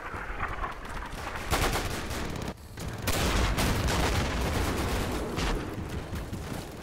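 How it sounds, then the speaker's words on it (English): Rapid bursts of 20mm flak gun fire from a Flakpanzer in the WWII shooter Darkest Hour: Europe 1944-45, loud and continuous with a short pause midway, dense sharp reports carrying through the whole stretch. "It's a flak gun. It fires 20mm shells."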